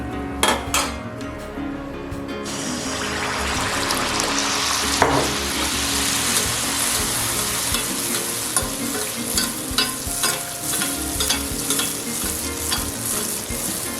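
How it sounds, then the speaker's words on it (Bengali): Malpua, a sweet fried batter cake, sizzling in hot oil in a pan, a loud continuous crackle with frequent metal spatula scrapes and clinks against the pan throughout. "মালপোয়াগুলোকে ঠিক একটু হালকা লালচে করে আমি ভেজে নিচ্ছি"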